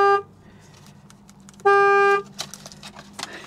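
A car with jump cables clipped on under the hood sounds two steady horn blasts, the second one longer, followed by clicks and clunks at close range.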